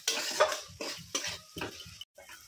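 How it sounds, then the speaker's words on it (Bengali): Spice masala with cumin and coriander powder being stirred and fried in a pan: a quick run of rhythmic, close scraping strokes about twice a second, ending abruptly, with no talking. "আবারও মশলাটাকে ভালো করে কষিয়ে নিচ্ছি।"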